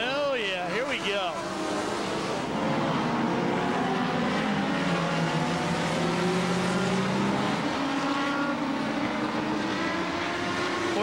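Race cars at a 1996 Summer Legends Shootout roar past on the track, engines rising and falling in loud Doppler sweeps, with a commentator talking over the continuous racing noise.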